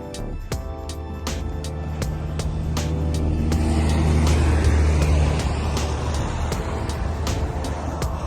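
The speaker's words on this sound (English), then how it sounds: "Ford Mustang 289 GT." A classic Ford Mustang 289 GT drives past, its engine a loud, steady low rumble that swells toward the middle and then eases off. Sharp ticking clicks come through during the first few seconds.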